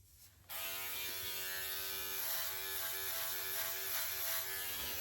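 A Philips OneBlade Pro electric shaver switches on after a brief quiet moment and runs as a steady, close buzzing hum while trimming sideburns, with a faint rasp of hair being cut.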